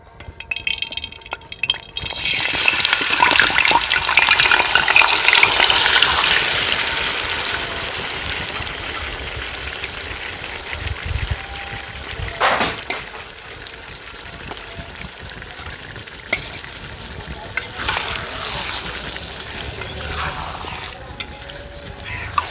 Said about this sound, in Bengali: ঘি গরম হয়ে গেছে। এখন ম্যারিনেট করা মাংসটা দিয়ে দেব।